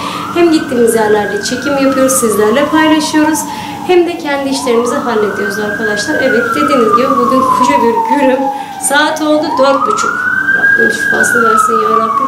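An ambulance siren passes outside, its wailing tone rising and falling in three loud sweeping cycles, with someone speaking Turkish over it throughout.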